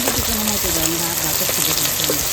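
Chopped onion and tomato frying in a pan for a duck curry give a steady, dense sizzle throughout. A voice speaks in short fragments underneath.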